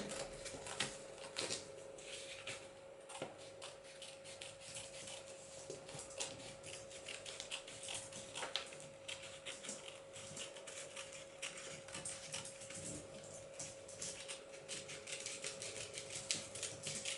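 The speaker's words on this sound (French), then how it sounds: "vous allez découper, suivre ici le côté du triangle" Scissors snip through paper along the side of a triangle in a quick, uneven run of soft cuts and rustles, faint and close throughout, with no talk.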